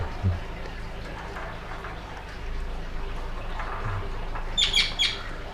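A small budgerigar, still wild and untamed, gives a few quick, high chirps near the end, over a low background hum in a quiet room.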